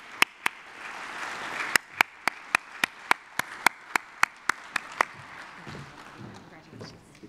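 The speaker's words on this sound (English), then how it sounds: "How about a big round of applause for Abubakar Zidane?" Audience applauding at a scholarship awards ceremony, a steady run of sharp, evenly spaced claps from a nearby person over a softer crowd clapping, fading out toward the end.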